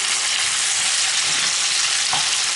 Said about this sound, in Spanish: Bueno, pues ya tenemos los pimientos saqueados, vamos a añadirle la carne que teníamos reservada. Mezclamos